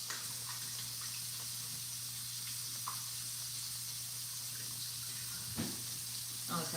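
Water runs from a tap into a container on a small vegetable farm, a continuous hiss-like stream heard throughout with a few faint bumps and clatters over it.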